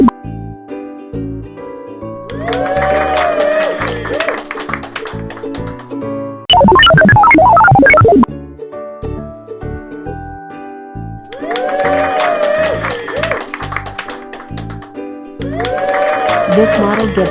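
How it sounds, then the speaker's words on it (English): Recorded applause and cheering played back by a machine learning model in a Pictoblox AI project, a dense burst of clapping lasting about two seconds, set between stretches of music and speech. "It also applauds and encourages citizens to keep places clean."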